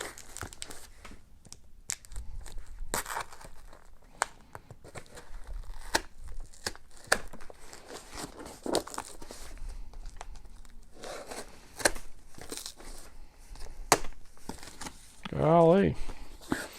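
Scissors crunch and snip through packing tape, with scattered sharp cuts and tearing, ending in a loud crinkly rip, while someone talks quietly in between.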